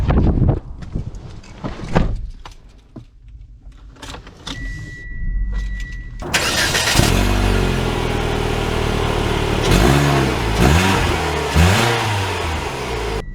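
Keys jingle before a 2023 Mitsubishi Outlander Sport's engine cranks and catches, then settles into a steady idle that swells with repeated revving as the SUV pulls away, with no talking.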